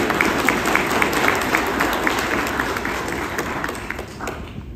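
Audience at a CEO forum lecture breaking into applause, a loud sustained crowd clapping with a few sharper individual claps standing out, tapering off at the end.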